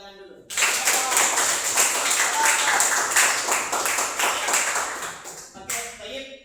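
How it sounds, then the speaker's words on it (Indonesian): An Arabic class of schoolchildren claps hands together in a burst of brisk, fairly rhythmic clapping lasting about five seconds, starting abruptly and stopping sharply, with a few voices around it. "tepuk tangan dulu"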